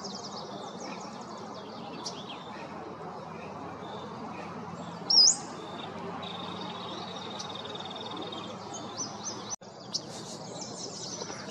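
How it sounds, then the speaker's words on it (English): Pacific slope flycatcher calling outdoors during spring migration in San Diego County, a few thin high chirps over a steady background of distant birdsong and ambient hiss. "It's a Pacific slope flycatcher."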